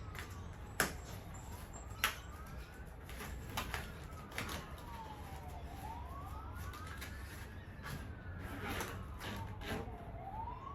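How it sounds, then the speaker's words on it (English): Emergency vehicle sirens wail faintly in the distance, rising and falling in slow sweeps over a low background rumble, with a couple of sharp knocks nearby. "Those sirens are not for me"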